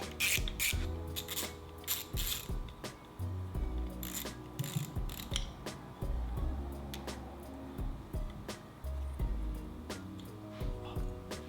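A ratchet wrench with a 10 mm socket works a bolt on a 2016 Suzuki DF15 outboard, quick bursts of ratcheting clicks between metallic clunks and low mechanical rubbing, close and fairly quiet.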